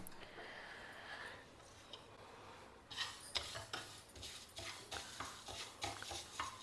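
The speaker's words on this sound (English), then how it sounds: "Now dry roast this black urad." Split black urad dal is dry roasted in a heavy pan, stirred with a spoon so the grains rattle and scrape in quick bursts, faint at first and then steadier and closer.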